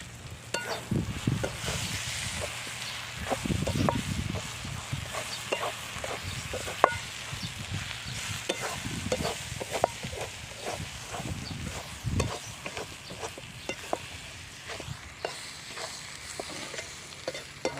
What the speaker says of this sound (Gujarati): આ ડુંગળી તળાઈ ગઈ છે એટલે હવે આપણે એમાં મસાલો નાખશું